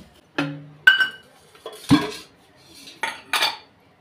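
Garlic is pounded in a home kitchen, giving a handful of separate knocks and metallic clinks spaced irregularly, fairly close with quiet gaps between them and no talking.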